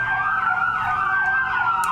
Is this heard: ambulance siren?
yes